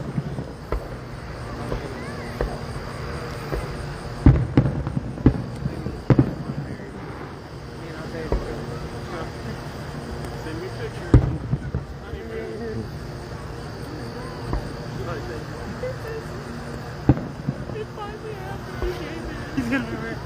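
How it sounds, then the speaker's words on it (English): Leftover Fourth of July fireworks go off outdoors in Leitchfield, Kentucky, with scattered sharp pops and bangs at irregular intervals under near, ongoing conversation. "And we still got fireworks left over from 4th of July."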